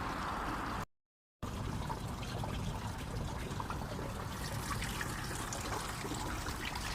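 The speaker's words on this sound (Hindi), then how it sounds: "पानी की आवाज़ बड़ी अच्छी लगती है।" Water trickles continuously in a steady, gentle splashing stream nearby, briefly cutting to silence near the start before resuming, with no talking.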